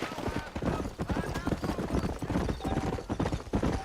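Horse hooves clip-clop at a steady trotting rhythm in the Western video game Red Dead Redemption, close and continuous throughout, with a voice speaking over the hoofbeats.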